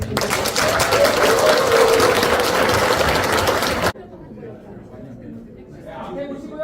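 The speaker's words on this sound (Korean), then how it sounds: "마크 교수님께 큰 박수 부탁드립니다." Audience applause at the close of a lecture on Korean surnames at the Pocheon history and culture museum, a dense loud clapping burst lasting about four seconds, then cutting to quieter room sound with light voices.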